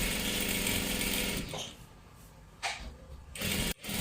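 A sewing machine stitches a salwar seam in a steady, loud mechanical whir that runs about a second and a half, then slows and stops, with a few short bursts of running as the fabric is guided.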